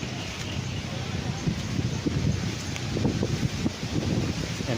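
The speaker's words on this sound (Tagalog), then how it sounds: "malakas ang hangin" Gusty wind on an open, flat farm lot in Liliw, Laguna buffets the microphone with a rough, rushing roar that swells and dips, loud and close, with no clear talking.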